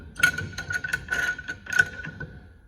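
Brake caliper piston on a Chevrolet Silverado being compressed with a clicking, ratcheting tool, several short bursts of metallic ticks close up, with no talking.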